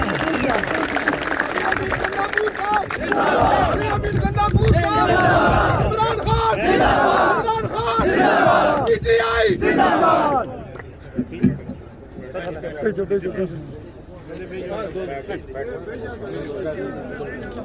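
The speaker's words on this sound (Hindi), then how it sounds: "आपकी भरपूर तालियों में अपने महबूब का इस्तकबाल करें जनाब अली अमीन गंडापुर साहब" A large crowd at a PTI political rally cheers and chants loudly to welcome a speaker for about ten seconds, then the roar drops to scattered shouts and murmurs.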